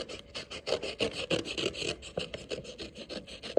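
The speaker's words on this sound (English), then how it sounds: "Usually I just trim around underneath so that I trim it all till it's a little smaller" Book pages being trimmed underneath for a folded book hedgehog craft, giving a steady, close rasping and rubbing of paper in quick repeated strokes, with no talking.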